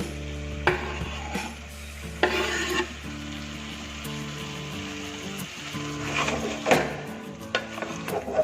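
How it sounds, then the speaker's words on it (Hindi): Chopped tomatoes go into a pan of chicken curry, with a soft sizzle under scraping stirs and a few sharp clatters of the spoon against the pan, close and without talk. "ये 2 मीडियम साइज का मैंने टमाटर चॉप किया है, इसे भी मैं इसमें डाल रही हूँ"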